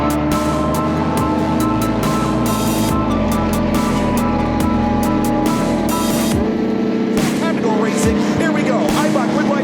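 Touring race cars from the Eibach GridLife Touring Cup at Carolina Motorsports Park take the green flag, a dense, loud pack of engines roaring and surging with bursts of passing whoosh over about ten seconds.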